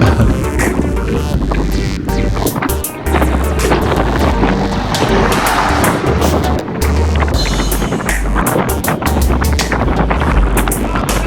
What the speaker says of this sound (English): there's more wind today than the last time we came